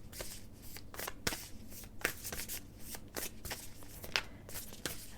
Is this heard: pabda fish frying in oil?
no